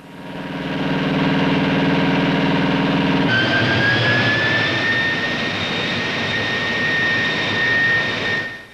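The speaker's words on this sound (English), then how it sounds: "A jet leans you back against the seat when they pour on the power for takeoff." Jet aircraft engine heard from inside the cockpit during takeoff: a steady, loud roar that shifts partway through to a strong rising whine as power increases, then holds until it cuts off.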